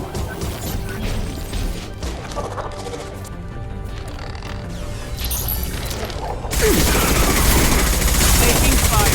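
Mass Effect 2 combat with bursts of gunfire and clattering impacts. Shots are scattered at first, then a dense, louder stretch of rapid fire takes over near the end, with a voice briefly speaking over the shooting.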